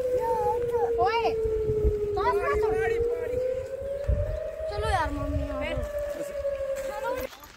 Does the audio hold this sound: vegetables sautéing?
no